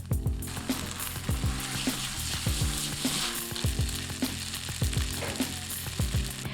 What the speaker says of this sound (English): Scramble a little bit and let it cook for a few seconds in the hot pan.